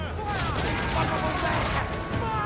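Ship cannons firing in Assassin's Creed Black Flag, a dense rolling barrage of booms and crackling blasts over roaring sea battle noise, with crew voices shouting.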